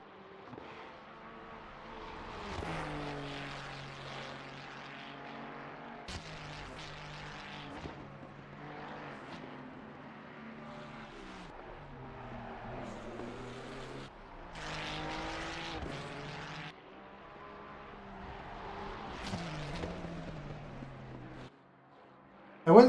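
A Ferrari race car engine in Assetto Corsa Competizione drones and rises through gear changes at Mount Panorama, moderately loud and continuous over the run, with other cars passing by.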